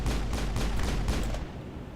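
A thrown grenade detonates in the Mass Effect video game, a loud, close blast with a rolling crackle of bursts that trails off over about two seconds.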